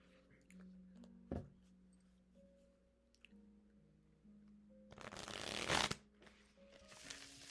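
Playing cards are shuffled in a quiet room, with a few soft taps and slides first, then a dense riffle burst of crisp fluttering clicks lasting about a second, followed by another brief shuffle.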